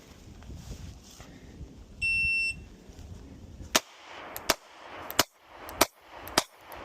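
Sig P365 pistol fired five times in quick succession at an outdoor range, sharp loud cracks spaced evenly about a second apart, preceded by a brief electronic shot-timer beep.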